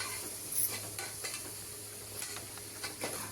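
Yogurt masala for a homemade vegetable biryani sizzles while a spoon stirs it through. Soft frying hiss runs throughout, broken by close, regular scrapes and taps of the stirring with no talk.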